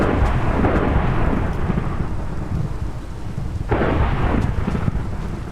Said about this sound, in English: go ahead and start the lightning whenever you're ready.